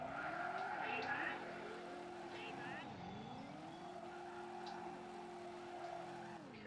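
A car in a video game skids under the handbrake, its tire squeal sliding up and down over a steady engine drone while someone talks quietly over it.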